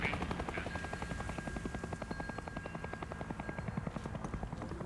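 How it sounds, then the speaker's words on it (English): Helicopter in the video game Hell Is Us, a steady rhythmic rotor chop that holds for the whole stretch, fairly distant and continuous, with no talk over it. "Helicopter sounds."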